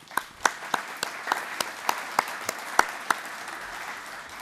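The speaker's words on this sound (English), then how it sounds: "for which I think we deserve a clap" Sparse, scattered clapping from a small audience at a company's annual general meeting, with distinct individual claps ringing out in a loose rhythm for about four seconds.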